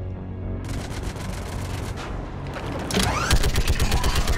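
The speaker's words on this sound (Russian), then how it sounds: "Мини-игра со стрельбой из турельки" Rapid turret gunfire in the Mass Effect 3 video game shooting minigame, a loud, continuous fusillade of close shots that intensifies with heavier booming impacts toward the end.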